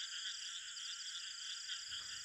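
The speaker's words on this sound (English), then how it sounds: "long-drawn call is periodically produced to attract its mate." Fungoid frog (Hydrophylax malabaricus) giving a mating call in the Western Ghats, a faint, steady, high-pitched trilling chorus that repeats in quick pulses and continues throughout.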